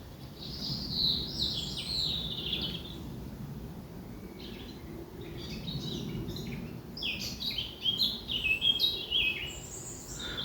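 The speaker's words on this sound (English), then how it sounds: "blackcap always throws in those" A blackcap sings in open air, a few scratchy, stuttering notes giving way to brighter, louder whistled phrases toward the end, repeated in bursts over a low steady background rumble.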